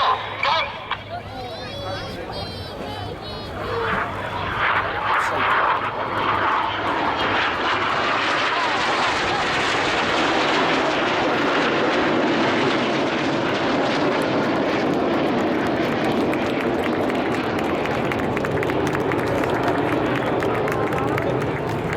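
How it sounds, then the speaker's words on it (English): Red Arrows jets flying an aerobatic display at the International Ayr Show, a roaring engine rush that builds and then holds loud and steady, with a crowd murmuring and a commentator's voice underneath. "They'll do a series of bow rolls, followed by inverted flight for their final manoeuvre of the show."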